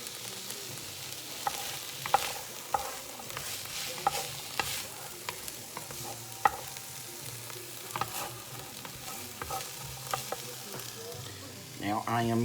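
Onions frying in a French cast iron pot, a continuous sizzle broken by frequent scraping knocks as a utensil stirs them, close and clear.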